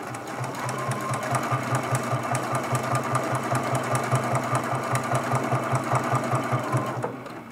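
A sewing machine runs steadily up an appliqué Christmas tree ornament, its needle thumping in an even, rapid rhythm, close and loud throughout, with no one talking.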